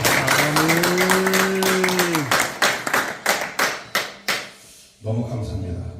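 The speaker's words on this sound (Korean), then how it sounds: "우리 하나님께 영광을 그리고 목사님께 감사의 박수를" A church congregation applauds for the visiting pastor at a monthly fellowship service, a dense burst of clapping under a sung or held voice that thins into scattered claps before talk resumes.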